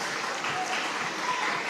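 A church congregation applauding during a worship service, steady dense clapping from many hands that fills the room evenly without pause.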